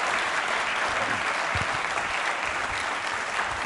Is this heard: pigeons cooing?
no